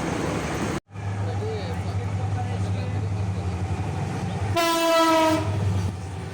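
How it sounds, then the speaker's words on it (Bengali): The Dhaka–Cox's Bazar Paryatak Express passes during heavy rain, with a steady rumble of wheels and carriages up close and a loud, sustained horn blast partway through. "পার্শ্ববর্তী এই লাইন দিয়েই আসবে ঢাকা থেকে কক্সবাজারগামী পর্যটক এক্সপ্রেস।"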